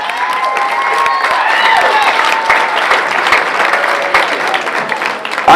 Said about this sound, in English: How about a nice round of applause for former 80s and 90s lead singer of many rock bands in New England